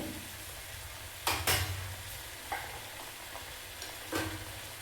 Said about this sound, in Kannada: ಇದು ಒಂದು 30 ಸೆಕೆಂಡ್ ಹೀಗೆ ಚೆನ್ನಾಗಿ ಮಿಕ್ಸ್ ಮಾಡ್ತಾ ಫ್ರೈ ಮಾಡ್ಕೊಳ್ಳೋಣ.